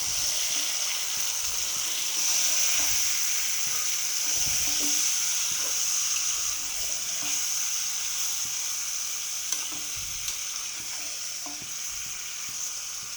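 Spice-marinated beef fries and is stirred in a hot pan, giving a steady loud sizzle throughout with soft irregular scrapes and stirring knocks underneath, close by and with no talking.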